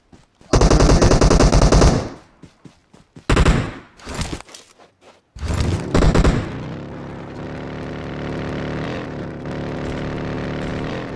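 MK rifle fire in PUBG Mobile, a loud sustained automatic burst, then shorter clipped bursts separated by gaps, followed by a lower continuous rumble that fades toward the end.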